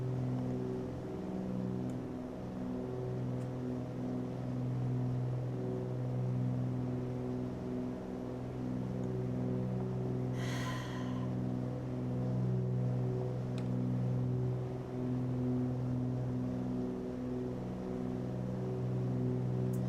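A twin-engine training airplane's engines drone steadily in the cabin, a loud, constant low hum with a harmonic tone that holds throughout.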